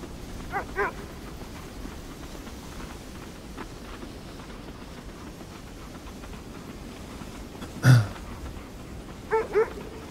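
Husky sled dogs bark outdoors over a steady low rumbling background, a couple of single barks early on and a louder bark followed by a quick double bark near the end.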